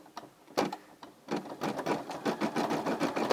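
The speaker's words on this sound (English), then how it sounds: "stitching right on top of that white" A Brother SE600 embroidery machine stitching light blue thread over white, with a rapid mechanical chatter that starts in bursts and settles into a steady, close, continuous whir of needle strokes.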